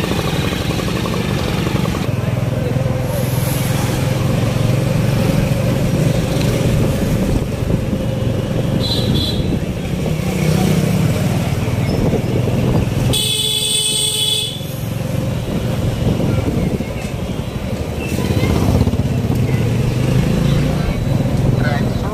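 Busy road traffic near a temple town in Sitamarhi, Bihar: constant engine rumble from passing vehicles, with motorcycles and a burst of loud car and truck horn honking midway, while someone talks over it.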